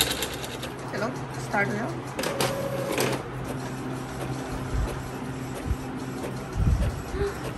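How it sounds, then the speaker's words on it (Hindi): A new home printer making a colour print, its steady mechanical whirring and clicking running throughout at close range, with someone talking over it. "और अब कलर प्रिंट करते हैं इसको"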